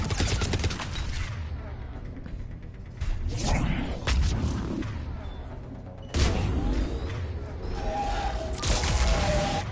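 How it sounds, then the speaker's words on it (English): A fiery explosion erupts amid combat in the video game Mass Effect 3, with bursts of gunfire, whooshes and booming impacts rising and falling across the scene, loud and close. "And it's a fire explosion."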